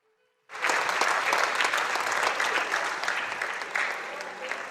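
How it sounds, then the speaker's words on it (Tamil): At a Hindu Thirumurai recital gathering, the audience breaks into sudden loud applause after a brief quiet moment, many hands clapping in a dense, lively burst that stays strong and fairly close. "ஜோரா கைத்தட்டுங்க"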